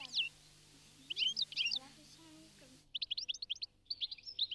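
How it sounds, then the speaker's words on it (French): A small goldfinch in a countryside garden gives bright, rapid bursts of twittering chirps in several short clusters, close and clear, with a soft voice murmuring underneath early on. "Ce petit oiseau s'appelle chardonneret parce qu'il mange surtout des chardons."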